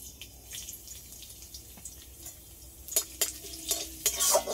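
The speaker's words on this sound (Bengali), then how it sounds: "এবার ওর মধ্যেই অল্প করে রসুন কুচি দিয়ে দেবো।" Chopped garlic sizzles in hot white oil left over from frying lentil fritters in a wok, a soft steady frying hiss broken by sharp metallic clinks of stirring that grow louder toward the end.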